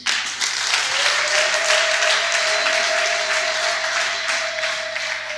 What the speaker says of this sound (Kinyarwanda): Twongera dukomere Imana amashyi.